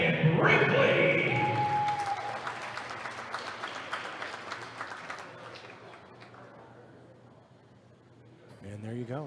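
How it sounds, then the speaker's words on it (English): Moderate applause from the crowd at a CASC versus Murray State wrestling meet on sophomore night, with an announcer talking over the clapping before it fades. "a round of applause for your Viking sophomores"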